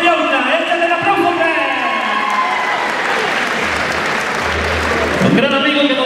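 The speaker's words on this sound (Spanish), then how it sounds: "Ahí está el aplauso de la gente." An arena crowd at a ranch-team tournament in Villa Park applauds loudly and continuously, while an announcer talks over the clapping.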